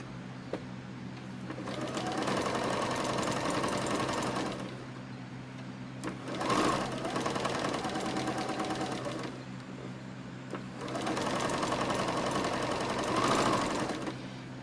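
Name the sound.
sewing machine top stitching fabric bat wings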